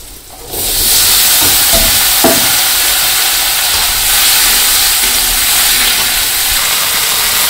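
Taro stolons hit a hot pan with cumin and green chilies in a village-style kitchen, giving a sudden loud, steady frying sizzle and hiss, with a few scrapes of stirring near the start.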